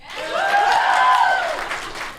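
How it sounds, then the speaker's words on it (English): Audience at a live podcast recording in London applauding, a short burst of clapping that swells and fades over about two seconds. "Give a round of applause."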